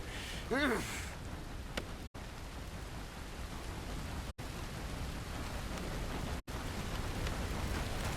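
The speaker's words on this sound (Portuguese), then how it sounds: "Tá chovendo." Rain falls steadily in Red Dead Redemption II as a dense, even hiss that fills the scene, with a brief higher chirp near the start. The hiss has short dropouts.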